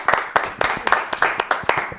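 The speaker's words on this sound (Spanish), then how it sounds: "un aplauso." A small group claps in scattered, uneven bursts of sharp hand claps, close and fairly loud, with no talking over it.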